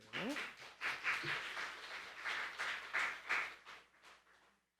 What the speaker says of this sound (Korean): 박수로 모시게요.